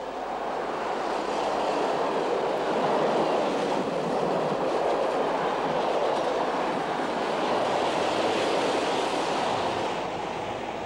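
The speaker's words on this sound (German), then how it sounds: "die vorbeifahrenden Züge zu beobachten" Train rolling past a railway station in 1973, a steady loud rumble with rushing, washing noise that holds throughout without pausing, close by and unaccompanied by talk.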